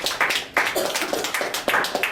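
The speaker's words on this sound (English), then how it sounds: "Let's have a round of applause for Blake" Applause from a small audience after an anthropology alumni lecture at a university: a modest scatter of hand claps, fairly close, with uneven bursts and brief dips rather than a dense roar.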